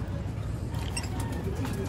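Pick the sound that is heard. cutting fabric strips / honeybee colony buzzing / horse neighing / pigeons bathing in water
pigeons bathing in water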